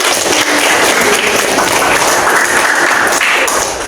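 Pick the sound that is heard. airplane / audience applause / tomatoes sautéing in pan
audience applause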